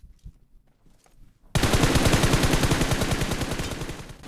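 Rapid automatic gunfire from the mobile game BGMI rattles loud and close in a fast, even burst. It follows a quiet stretch of faint game sounds.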